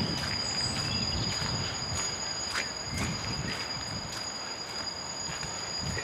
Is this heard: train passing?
yes